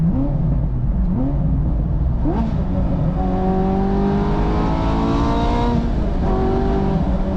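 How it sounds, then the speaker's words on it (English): A manual Ferrari 430 engine cruising on a motorway, a loud continuous drone with rising and falling engine tones as it pulls through the gears, wind and road roar throughout, no talking. "we're on a motorway in a manual 430"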